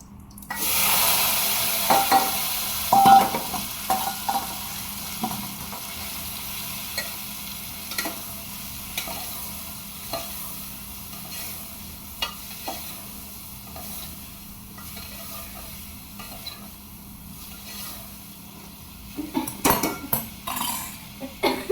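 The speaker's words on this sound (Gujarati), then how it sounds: "આપણે તો શાક વઘારી દીધું છે." Ivy gourd and potatoes sizzle steadily in a pan as they are stir-fried, with a spoon clinking and scraping against the pot now and then.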